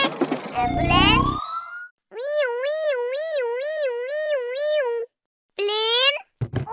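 In a kids' cartoon, a voice imitates an ambulance siren with a loud, wavering wail that rises and falls steadily for several seconds, after brief speech-like sounds and before a short rising whoop.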